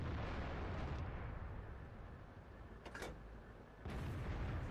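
M56 Scorpion tank destroyer in the World of Tanks game fires its cannon, a single deep boom over a loud rumbling engine and battle ambience, with another burst shortly after.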